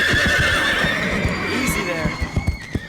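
Animated horses whinny in a high, drawn-out call over a busy bed of hoof clops, with sharp hoof strikes standing out near the end, all close and fairly loud for about three seconds.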